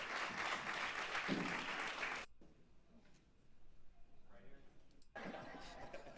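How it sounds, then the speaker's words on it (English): An audience at a public event claps for Troy O'Quinn, a burst of dense applause that cuts off abruptly, leaving quieter room sound with some talk before clapping resumes briefly at the end. "Y'all give Troy a big round of applause."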